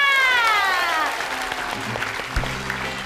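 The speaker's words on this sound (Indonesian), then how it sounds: "tepuk tangan untuk Yana." A studio audience at a comedy show breaks into applause as a high whistling tone fades out, with clapping continuing under some background voices.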